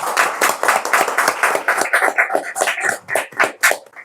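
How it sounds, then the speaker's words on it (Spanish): A live audience at a panel talk about ghost stories in Spain claps in distinct, fairly close hand strikes, forming a short round of applause that loosens into separate claps near the end. "el aplauso del público aquí asistente"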